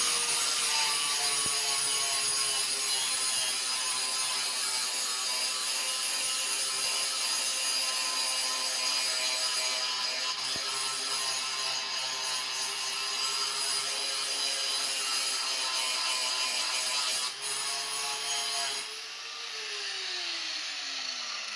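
A forged steel knife blade being ground on a power grinder, a steady high whine and abrasive hiss that runs continuously, then drops in pitch as the machine spins down near the end, with no talking.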